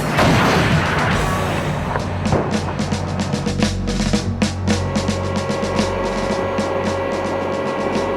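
A tank cannon fires at a target during the CANAM tank gunnery challenge. A loud, dense blast opens the clip, followed by sharp rattling clatter over a low rumble.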